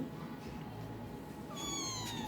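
A kitten gives a single thin, high meow near the end, heard close over a constant low background noise.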